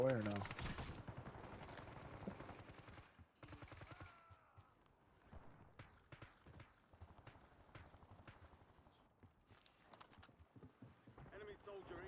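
Gunfire in a Call of Duty match, including sniper shots, cracks out in sharp bursts and scattered single reports at varying distances, with a loud opening volley and quieter intermittent shots after.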